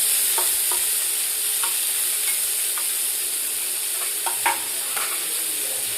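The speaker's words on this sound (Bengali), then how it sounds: "এবার পেঁয়াজ আর রসুন বাটাগুলো একটু ভালোভাবে তেলের সাথে নাড়াচাড়া করে একটু লাল লাল হলে" Garlic and onion paste sizzles loudly and evenly in hot oil for a folui fish curry, with soft intermittent taps and scrapes as it is stirred.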